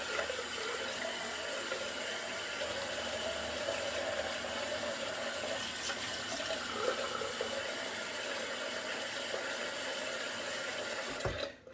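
A bathroom tap runs in a continuous close, full stream into a sink for several seconds while a face is wetted before a wet shave, with faint splashes, then cuts off abruptly at the end.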